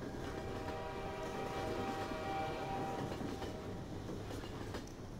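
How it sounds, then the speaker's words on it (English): A train in the Half-Life mod Transmissions Element 120 rumbles steadily with a sustained tonal hum and faint rhythmic clacking, heard from inside the carriage with no voices. "We're in a train."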